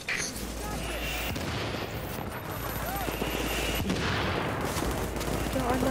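Mortar and gunfire barrage in the shooter game Tom Clancy's The Division, a dense continuous rumble of blasts and shots filling the whole stretch, with voices talking over the combat.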